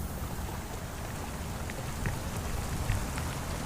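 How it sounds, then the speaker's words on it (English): Heavy rain downpour drumming steadily on surfaces outdoors, a dense even hiss with occasional louder drips, fairly quiet with no voices. "the rain switched from a trickle to a downpour"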